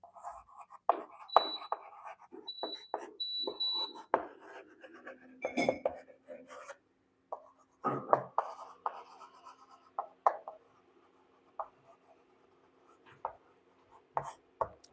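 Marker or chalk writing on a board during a semiconductor lecture, with irregular taps, short scrapes and squeaks in uneven clusters separated by quiet pauses, close and moderately loud.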